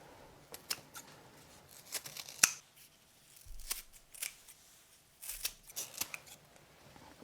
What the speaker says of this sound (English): I'm going to cut this into small pieces.